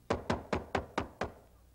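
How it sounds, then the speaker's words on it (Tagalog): Six quick, evenly spaced knocks on a door, close and sharp, with no voices over them. "May kumakatok!"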